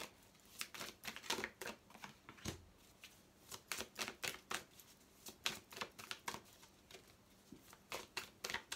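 Tarot cards shuffled and drawn in a steady run of quick papery riffles and snaps, close and fairly quiet with no talk.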